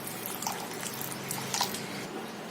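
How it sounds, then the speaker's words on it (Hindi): Cold water poured onto cooked sago pearls sitting in a strainer, a steady close trickle and splash with a few louder drips partway through, no voices. "अब डालेंगे हम इसमें ठंडा पानी।"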